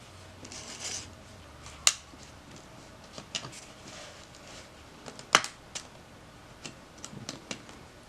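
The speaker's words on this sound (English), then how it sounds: "I might have to cut it more here on the bottom." Plastic cassette tape being cut open, with scattered sharp clicks and snaps of the casing at irregular intervals, faint and close amid quiet.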